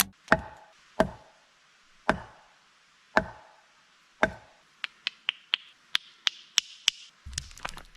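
Sharp knocks ring out in a forest, five slow, evenly spaced hollow raps followed by a quicker run of lighter clicks and taps, clear and fairly close with no talk.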